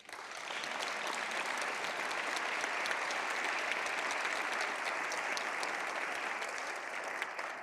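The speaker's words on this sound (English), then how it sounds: "please an applause for our nominee" Sustained applause fills a parliamentary assembly chamber at the PACE autumn session for a nominee, a dense even wash of clapping from a large audience lasting several seconds without talk.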